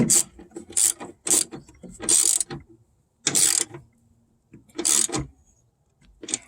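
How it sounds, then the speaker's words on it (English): Bursts of quick ratcheting clicks from a ratchet tightening bolts on a Roxor, in a repeated rhythm separated by short pauses, close and fairly loud with no talking. "you can tighten these bolts back down"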